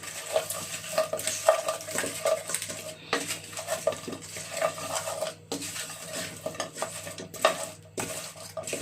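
A spoon scrapes and clanks against a pot as fried meat is stirred into sauce for Nigerian party jollof, with repeated metallic knocks over a low, steady sizzle close by.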